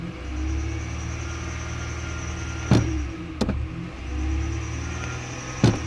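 A car engine with a P1659 fault code, throttle pushed fully by hand with the AC off, holds a steady low rumble as revs stay below 3,000 RPM, broken by a few sharp clicks.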